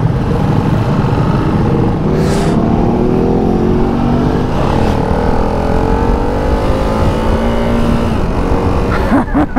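A Ducati Hypermotard 698 Mono RVE's 698cc single-cylinder engine revs loudly up close, a throbbing idle swelling into repeated rising revs with brief blips, continuous and dominant throughout.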